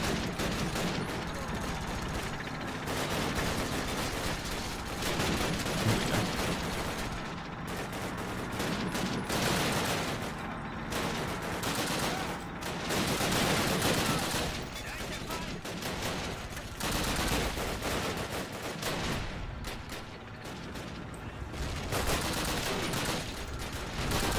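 Call of Duty 1 battle sounds: rapid rifle and machine-gun fire with heavy explosions, loud and continuous throughout with little letup, voices mixed into the din.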